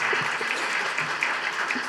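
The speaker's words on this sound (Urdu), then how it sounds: "برائے مہربانی اپنے آفیسر سے بھی کہہ دیں کہ وہ بھی تالی بجا لیں" Sustained audience applause at a NAB Karachi event, a dense steady patter of many hands clapping together throughout, fairly loud and with no talk over it.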